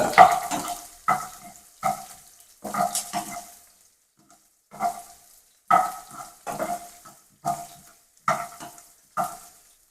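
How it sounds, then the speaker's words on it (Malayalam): Garlic frying in a pan for a spiny amaranth stir-fry, a series of short bursts of sizzling and stirring that come and go roughly every second, close and moderately loud, with brief quiet gaps between them. "വെളുത്തുള്ളി ഇട്ട് കൊടുത്ത് മൂപ്പിച്ചെടുക്കുക"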